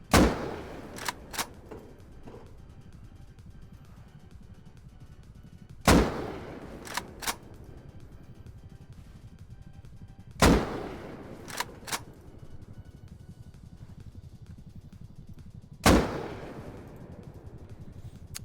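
Gunfire in Rust testing different ammunition types, starting with standard rounds: four sharp, loud shots spaced several seconds apart, each followed by a couple of quieter cracks or impacts, over a low ambient background.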